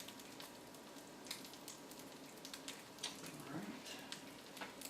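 Crab cakes frying in a pan make a faint, continuous crackling sizzle with scattered small pops, while a person talks over it.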